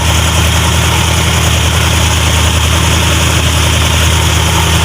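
Steady, loud idle of a 2021 Toyota 86 engine during an oil-change check-up, a continuous low rumble with even vibration and no talk throughout.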